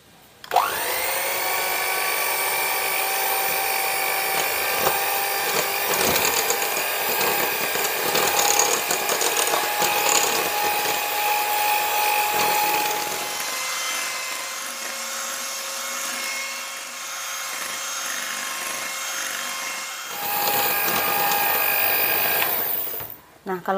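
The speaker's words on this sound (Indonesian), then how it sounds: "untuk kuning telur harus dikocok sampai mengembang dan juga kental." An electric mixer beats egg yolks at its highest speed, a loud, steady high-pitched whine that shifts in tone partway through, pauses briefly, and then resumes.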